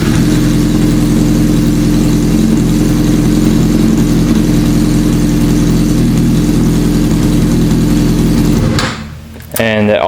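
A 2005 Yamaha R6 motorcycle engine idles loudly and steadily up close after an oil change, then shuts off near the end, followed by a brief voice.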